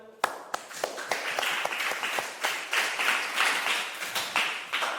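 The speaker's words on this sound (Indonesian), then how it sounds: "Beri tepuk tangan." Audience applause at a teacher-training presentation session in an Indonesian Islamic institute, a brisk wash of many hands with a few sharp individual claps standing out, steady for about five seconds with no talk over it.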